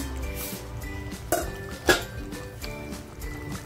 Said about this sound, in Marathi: झाकण काढून बघूया